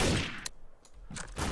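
Gunfire in Garry's Mod Trouble in Terrorist Town, a couple of sharp bursts of shots separated by a brief lull, close and loud with no talking.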